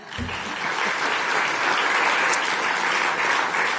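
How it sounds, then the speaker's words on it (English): Audience applauding in a conference hall at a European Union political gathering, steady dense clapping that holds loud and even throughout with no voices over it. "needs an applause"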